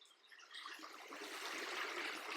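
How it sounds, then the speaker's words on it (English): Water of a brook running beside a cedar grove, a steady broadband rush and trickle that builds slightly and stays continuous, heard alone without talk. "I don't know if you can hear the sound of the stream or the brook running by."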